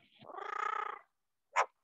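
A parrot mimics a cat, producing one close, wavering meow-like cry followed by a short, sharp chirp.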